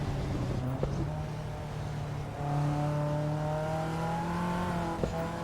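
A Caterham's engine drones loud and steady in the Assetto Corsa EVO racing game, its pitch holding then climbing as the throttle opens, with a couple of brief clicks and no talk over it.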